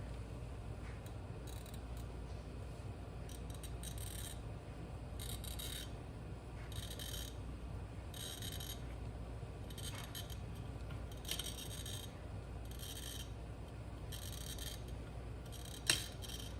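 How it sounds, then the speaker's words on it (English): A handheld Genround glass bottle cutter scores around a glass bottle with faint, repeated scraping passes, ending in a small sharp crack near the end; quiet and steady with a low background hum. "I just heard the little crack sound, and that means that it is completely all the way around."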